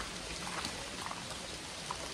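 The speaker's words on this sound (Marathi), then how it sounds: "हा बघा पाऊस वाढतच चालला आहे" Heavy rain falls steadily at Korigad Fort near Lonavala, a faint, even hiss of drops with a few soft individual patters and no voices.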